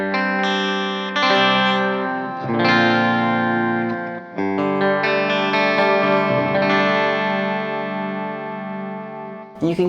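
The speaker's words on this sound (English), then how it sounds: "Now let's kick on the Rogue Analog Distortion." Electric guitar played through a Rogue analog distortion pedal with every knob turned fully up, giving loud, thick, saturated chords and sustained notes in several phrases with brief breaks, alone without speech.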